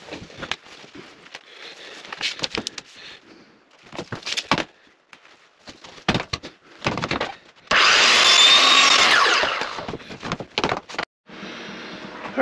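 A miter box saw cuts PVC pipe with scattered rasping strokes and knocks, then a sustained loud grinding rasp builds near the end before easing into a steadier lower hum.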